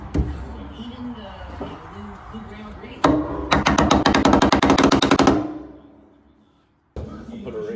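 Wooden side pieces for a Cummins pickup truck bed are hammered into the stake pockets in a rapid burst of about twenty sharp, loud blows. Some softer handling noise comes before it, and a short silence follows.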